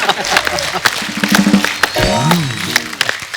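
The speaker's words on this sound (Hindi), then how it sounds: "तालियां।" Studio audience applause on a TV comedy talk show, lively clapping running under people talking and laughing, close and fairly loud.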